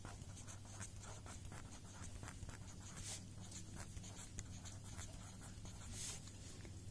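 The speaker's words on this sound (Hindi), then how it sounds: "तो हम लिखेंगे पंडित जवाहरलाल नेहरू" A pen writes on paper during a fifth-grade Hindi grammar lesson, with quiet scratchy strokes in an irregular rhythm of short bursts, close but faint over low room hum.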